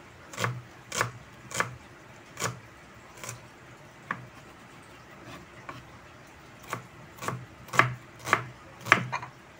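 Knife chopping onions into small pieces on a cutting board, an irregular series of sharp, close taps in short bursts with brief pauses between, no talking.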